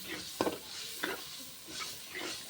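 Onions with garam masala paste hitting very hot oil in a pan, a steady broadband sizzle with a few sharp stirring clatters, close and fairly loud, no talking.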